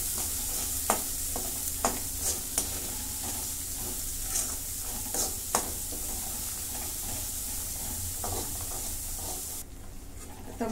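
Masala sautés in a pan with a constant bright sizzle, punctuated by repeated scraping strokes of a spatula, close up and without talk.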